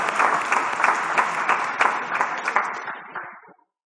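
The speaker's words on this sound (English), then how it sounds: "Let's give him a round of applause as he walks up." A theatre audience at a TEDx magic show applauds as a volunteer walks onto the stage, dense even clapping that holds for about three seconds and then stops abruptly.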